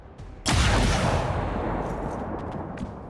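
Heavy gunfire from XCOM 2 War of the Chosen erupts after a quiet start, a loud booming burst of blue screen rounds that rolls on as a dense, rumbling roar before slowly fading.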